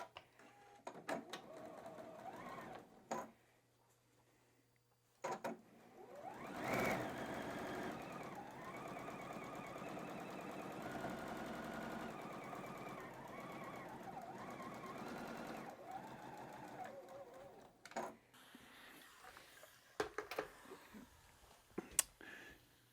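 Sewing machine stitching quilt block pieces, a fast close mechanical whir in one long run of about twelve seconds, with shorter bursts and handling clicks before and after, fairly quiet overall.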